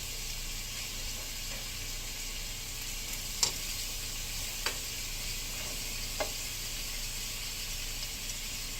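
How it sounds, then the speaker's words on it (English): Separated onion rings sauté in a pan with a constant soft hiss and sizzle, punctuated by three or four distinct utensil clicks or scrapes, near and without speech. "It all cooks up nicely, and we got a good, sauteed onion."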